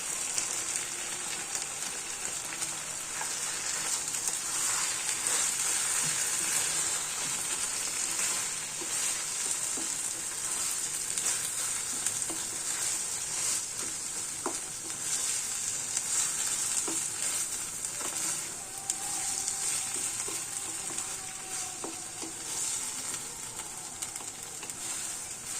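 Grated coconut sizzles and is stirred into a pumpkin bharta in a pan, a steady bright frying hiss that lasts throughout with occasional soft scraping of the spoon, close and even.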